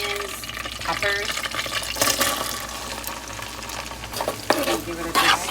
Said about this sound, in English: now that it's preheated, we're gonna add our onions, peppers